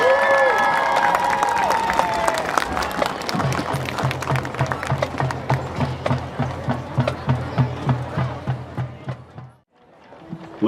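Applause and cheering from a crowd at the 2015 Newcastle County Marching Band Festival for the Conrad Schools of Science Redskin Marching Band, loud and sustained, with rhythmic drumming beneath it that cuts off near the end.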